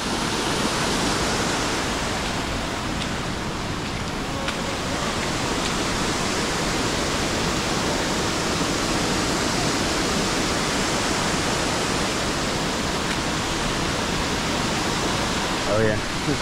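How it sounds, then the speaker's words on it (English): A waterfall at Old Stone Fort State Park pours down in a steady, dense roar of falling water that stays loud and unchanging throughout, close by and with no pauses. "You can just walk down there and stand under the waterfall."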